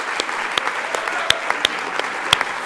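Crowd applause filling the background at a business talk, a steady wash of clapping with sharper individual claps popping out near and loud throughout.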